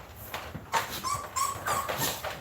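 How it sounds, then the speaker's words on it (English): New puppies whimper and yip close by in a string of short, high, wavering cries. "Show y'all the the new puppies."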